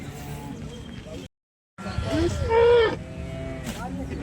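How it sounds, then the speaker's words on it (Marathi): A cow moos once, a drawn-out mid-length call, amid the crowd noise and talk of a busy cattle market in Sangola. "ही गाय वेलेली आहे तुम्ही बघू शकता आपण आता ही गाय कवर करतोय"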